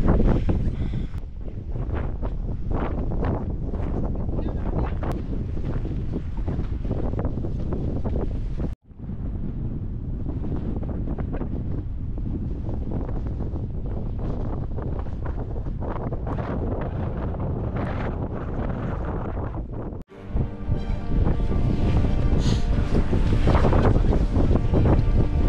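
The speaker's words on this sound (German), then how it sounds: "Windig" Strong, freezing-cold wind buffets the microphone in loud, roaring gusts, nearly continuous with a couple of brief drops, over open water off Norway.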